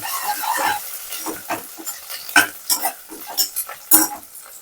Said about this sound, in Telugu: ఇప్పుడు ఇందులో కొంచెం కరివేపాకు వేసేసుకుందాము. ఇది కూడా ఒకసారి బాగా కలిపేసుకోవాలి.